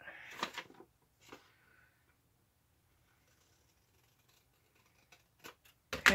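Scissors snip off an excess piece of a paper envelope: a few crisp cuts and paper rustles early on, then near-silence, with light handling noises and a louder paper crinkle at the end.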